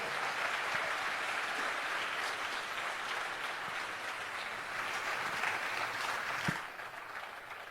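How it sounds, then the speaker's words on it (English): A crowd at an Art of Living public event in Jamaica gives Gurudev Sri Sri Ravi Shankar a round of applause: continuous, fairly full clapping that eases off near the end. "Let's give a big round of applause, Gurudev Sri Sri Ravi Shankar."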